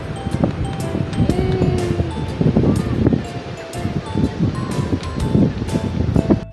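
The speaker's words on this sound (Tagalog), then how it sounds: "Hangin dito." Wind blows across a beach in Camarines Norte, a loud, gusty rumble buffeting the microphone, with faint surf and rustling underneath and a voice speaking briefly over it.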